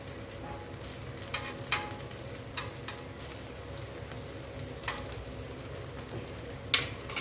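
A vegetable pancake made with wheat flour sizzles steadily in a pan, a soft continuous crackle with occasional sharper pops and no talking.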